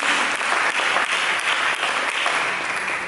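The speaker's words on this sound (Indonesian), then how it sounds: "Berikan tepuk tangan kepada Yesus Kristus." Church congregation applauding during a sermon, dense sustained clapping from many hands filling the room at a steady, loud level.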